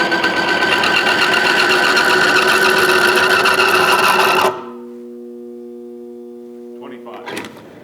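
A BG MOA bearing test machine runs with a loud, steady mechanical whir and buzzing hum for several seconds, then cuts off to a faint tonal ring and a brief rattle near the end.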